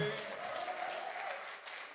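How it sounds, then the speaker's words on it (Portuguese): A church congregation applauds during a Portuguese-language worship service, a steady soft wash of many hands clapping at a distance, faint and continuous for two seconds. "Aplaude Jesus, glorifica o Rei."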